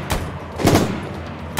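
Gunshots fired through walls in the survival video game DayZ: a few sharp reports, a single crack, then a louder burst, then another lone shot, all at moderate distance with no talk over them.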